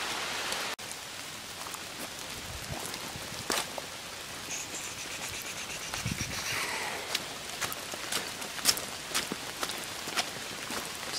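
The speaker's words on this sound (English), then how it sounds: "Still raining." Steady rain falls on a wooded hiking trail near the Smokies exit at Fontana Dam, a continuous close hiss with scattered louder drops and occasional rustling or footsteps, no talking.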